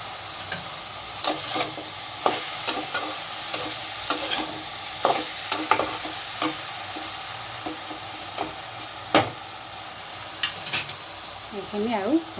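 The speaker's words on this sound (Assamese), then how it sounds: "এইখিনি আৰু ভাজি থাকিব লাগিব।" Chicken fries with garam masala in a pan, a continuous sizzle beneath frequent scraping stirs and clinks of a spatula against the pan, close-up, with a faint voice near the end.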